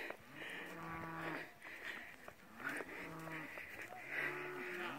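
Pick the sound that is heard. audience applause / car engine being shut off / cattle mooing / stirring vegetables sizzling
cattle mooing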